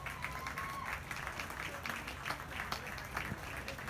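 Faint applause from a crowd at a youth beef cattle show ring, scattered clapping heard at a distance in a large barn with some background voices.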